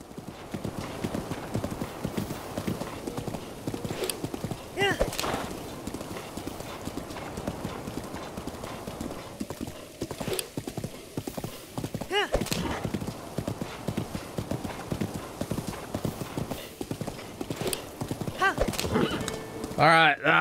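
Horse hooves clip-clop steadily through a galloping run in Zelda: Breath of the Wild, with a few neighs and snorts breaking through and a voice talking over most of it.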